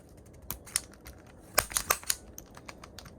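A worn punch-down tool with an old blade seats wires into a jack during a camera repair, giving a series of sharp, close clicks and snaps in quick uneven bursts, some doubled, with no talk.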